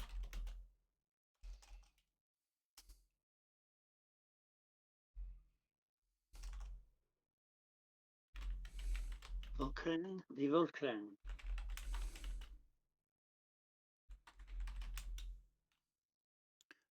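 Light keyboard typing in a tabletop role-playing session, soft tapping bursts heard between stretches of several people talking.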